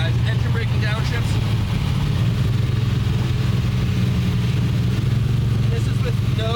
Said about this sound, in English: check out this downshifting, guys. Engine braking downshifts.